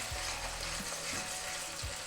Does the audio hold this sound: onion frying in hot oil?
yes